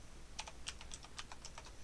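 Quick typing on a computer keyboard while coding a simple Pygame demo, a brisk run of about a dozen close, crisp key clicks with no talking.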